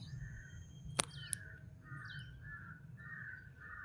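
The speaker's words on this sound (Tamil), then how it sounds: "காக்கா கற்றுதுங்க." Crows caw in the morning: a few short, faint calls spaced across a quiet outdoor background, with one sharp click near the start.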